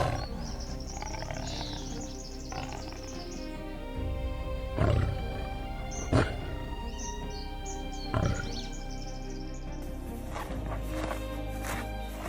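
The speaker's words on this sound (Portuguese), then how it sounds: "Sob a sombra das acácias, uma manada de leões descansa entre a relva alta, atenta a cada som e movimento ao redor." Pride of lions resting under acacias in the tall grass of the Serengeti, with a few low grunting calls and rustling movement over a quiet natural ambience and faint bird chirps.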